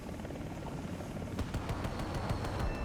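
A Z-10ME attack helicopter's cannon firing in a video game, a rapid run of evenly spaced shots over the steady drone of rotor and engine noise, fairly close and moderately loud.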